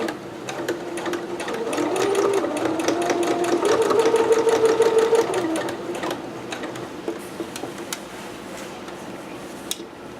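A domestic sewing machine stitches a dress seam from McCall's 6701, backstitching over boning sections in a quick steady whir that runs for about five seconds, then slows into a few scattered mechanical clicks and taps.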